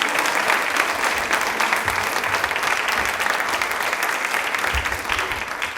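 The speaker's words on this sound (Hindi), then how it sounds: "तालियां अपने लिए एक बार जोरदार हो जाए प्लीज" A studio audience at a Women's Day quiz show on Rajasthan television gives loud, sustained applause, a thick wall of clapping that stays strong throughout and eases only slightly toward the end.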